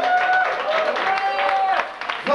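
Audience applause for a DJ at an award event, a dense wash of clapping under a steady bed of music with a sustained tone, thinning briefly near the end.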